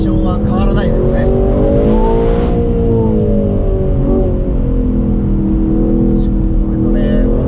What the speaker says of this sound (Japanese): のトルクフルな V8 エンジンがね、素晴らしいレスポンスなんですよね。